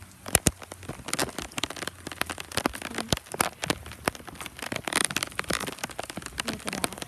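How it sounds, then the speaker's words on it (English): Heavy tropical rain pours down outdoors, a dense patter of drops striking leaves and surfaces with frequent sharp close splats, steady and fairly loud throughout with no voices. "It's raining very hard."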